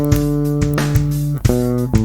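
Bass guitar plays two bars of a groove, a run of short, punchy plucked notes with sharp attacks, loud and close, with no voices.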